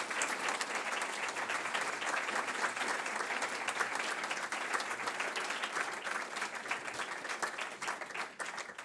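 An audience bursts into sustained, dense applause welcoming Ambassador Peter Ammon at a talk on the U.S.–European partnership, steady and loud from start to finish with no speech over it.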